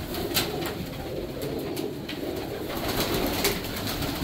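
Pigeons coo softly over a constant hum of background noise, with repeated low throaty calls layered through the scene.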